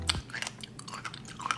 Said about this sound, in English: the crunch of the pomegranate is so good